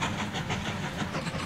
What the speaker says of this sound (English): That train's still going backwards.